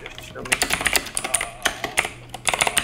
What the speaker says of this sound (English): I'm typing it.